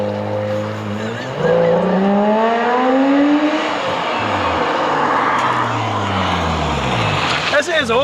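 A Subaru Outback H6 engine revs hard through rising and falling sweeps with a loud, raw straight-pipe exhaust note, close by, with crackles near the end.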